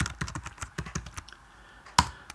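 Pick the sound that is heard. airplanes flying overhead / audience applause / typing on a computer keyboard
typing on a computer keyboard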